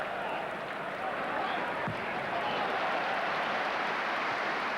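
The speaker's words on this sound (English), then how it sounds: "Deserved applause for some excellent defending from young Matteo" Steady stadium crowd noise at the 1996 Liverpool v Arsenal football match, a broad continuous roar of applause and murmur from a large crowd that stays level throughout with no distinct voices.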